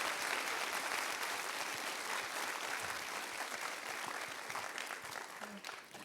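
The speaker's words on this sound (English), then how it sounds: "Can we give another warm round of applause to Mr. Albert Balingit for his speech?" Warm, sustained applause from an audience at a Philippine Culture Night stage show, a dense wash of clapping that stays fairly faint and even throughout.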